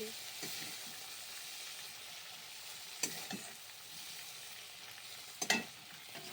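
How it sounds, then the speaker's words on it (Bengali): Shrimp being fried in a pan for a pointed gourd and potato curry: a soft, steady sizzle runs throughout, broken by a few sharp clinks or stirring knocks, with no talk. "পটলের চিংড়ি মাছটা ভেজে নিচ্ছি"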